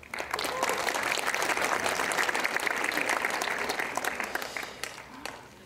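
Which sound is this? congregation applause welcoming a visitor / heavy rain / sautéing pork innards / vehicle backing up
congregation applause welcoming a visitor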